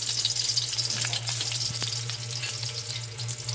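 Garlic, skins still on, sizzles steadily in hot cooking oil on a stove while a chicken adobo is prepared, a continuous close crackle with a few sharper pops.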